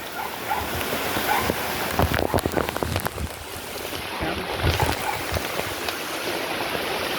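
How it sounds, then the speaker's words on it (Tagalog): Heavy typhoon rain pours down in a dense, steady roar, with gusty wind and splashing floodwater throughout. "sobrang lakas ng ulan"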